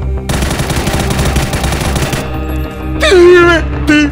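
Rapid automatic gunfire in a shooter video game: a loud, sustained machine-gun burst with tightly spaced shots, which then gives way to a wailing, moaning voice over a low rumble.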